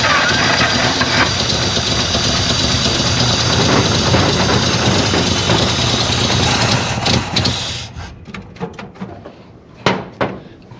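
A vintage Pontiac engine, left sitting for decades, runs roughly at a loud, uneven idle for several seconds before cutting out, leaving a few sharp clanks and knocks in the quiet.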